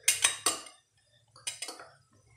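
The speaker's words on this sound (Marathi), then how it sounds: "आता हे जे काही मिश्रण आहे हे आपण व्यवस्थित कालवून घेऊ" A spoon mixes the peanut-based stuffing for stuffed bitter gourd in a metal vessel, giving two short bursts of sharp metallic clinks and scrapes separated by a quiet pause, with no speech.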